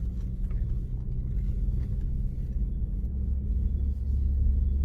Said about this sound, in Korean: 네, 시동 걸린 겁니다. 가고 있는 겁니다. 굉장히 조용하네요.